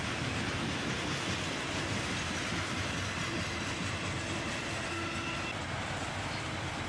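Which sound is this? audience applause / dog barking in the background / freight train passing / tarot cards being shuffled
freight train passing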